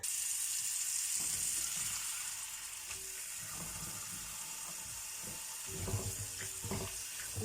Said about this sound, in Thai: แล้วก็มาล้างทำความสะอาดก่อนค่ะ